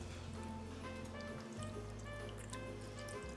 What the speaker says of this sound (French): je commence avec 335 grammes d'eau.